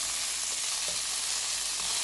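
Manioc leaves with peanut paste simmering in a pot, giving a steady, even hiss of bubbling and sizzling that holds without a break, with a few soft stirring bumps and no voices.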